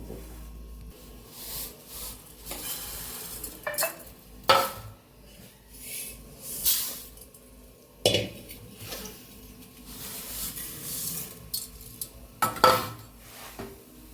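A spoon clinks and scrapes against a pan while dates and toasted sesame seeds are stirred into melted ghee over a low flame. The clinks come in irregular bursts, close and fairly loud, and no one speaks.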